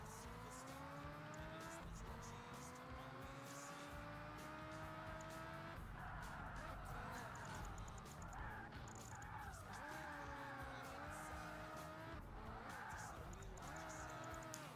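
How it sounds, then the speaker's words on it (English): A rear-wheel-drive, mid-engine Ferrari slides through corners in the Project Gotham Racing video game, its engine howling and shifting pitch under a steady roar, with screeching tires through each drift. "I can get some slide going through the corners to score some extra points as necessary."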